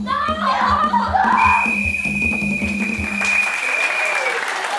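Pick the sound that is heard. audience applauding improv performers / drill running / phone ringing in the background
audience applauding improv performers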